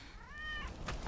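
A cat meows once in the Final Fantasy 7 Remake video game, a short rising-falling call standing out clearly over a low game background hum.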